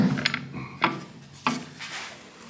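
A heavy cast iron 10-inch Atlas table saw with a 3/4 horsepower motor is flipped over on a shop floor. A few close clunks and knocks come with some scraping and rattling of metal parts, and no one speaks.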